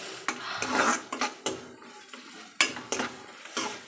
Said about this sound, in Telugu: ఇది వేసి ఆయిల్లో ఇలా వేగుతుంటుంది.